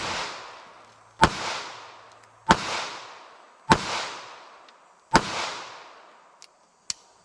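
A short-barrel .380 handgun fires at an outdoor shooting test: four evenly spaced sharp, loud shots, each trailing off in a decaying echo, then two fainter clicks.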